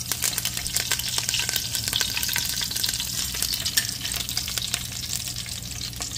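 Green cardamom, cinnamon, cloves and curry leaves fry in a pot for a curry, giving a steady crackling sizzle with bursts of popping and the scrape of stirring, close and continuous.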